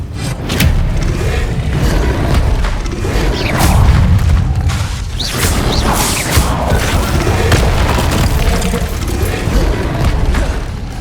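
An Incendio fire spell is cast in the Hogwarts Legacy video game amid a loud, dense, continuous wash of booming, roaring and rumbling effects that stays full throughout.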